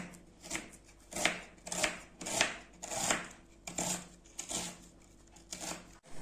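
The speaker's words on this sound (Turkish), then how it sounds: "bu orta boy soğanımı küçük küçük doğrayacağım" A medium onion is chopped into small pieces with a knife on a board, giving a steady series of crisp, close chops about every half second with no talk.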